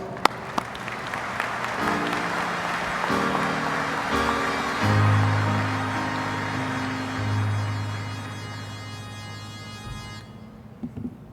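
Sustained applause from a large convention audience at an American Legion awards presentation in Cincinnati, a steady wash of clapping with a low hum underneath that carries for about ten seconds before tapering off.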